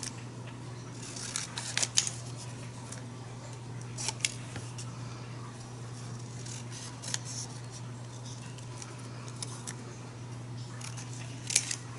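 Small scissors snip and trim around the corners of a paper card, giving a string of light, crisp cuts scattered over a steady low hum.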